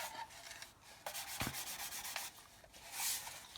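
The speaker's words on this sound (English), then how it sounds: "just take the sanding marks out with this 800 grit." Close, steady rubbing of an 800 grit sanding stick over a plastic model part, soft continuous strokes with brief pauses and a few louder passes, no talking.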